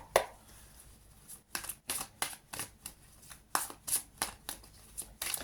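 A deck of tarot cards is shuffled by hand nearby, giving a quiet, irregular series of crisp riffling and slapping bursts with brief gaps between them.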